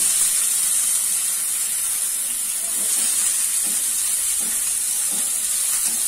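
Chopped onions frying over a medium flame for an Odia-style mixed vegetable curry, a continuous loud, even hiss of oil with faint soft stirring knocks and no voice over it.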